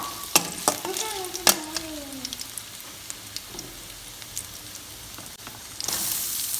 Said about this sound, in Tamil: எண்ணெய் சூடானதும் நம்ம பொடியை நறுக்கி வச்சுருக்கிற இஞ்சி ஆட் பண்ணிக்கலாம்